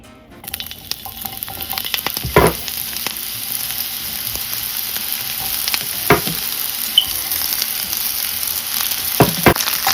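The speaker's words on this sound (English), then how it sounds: "I'm just going to put a little bit of olive oil in the pan so I can start sauteing up my onion" Onion sautéing in olive oil in a pan, a loud steady sizzle and crackle throughout with several sharp spatula knocks and scrapes at intervals.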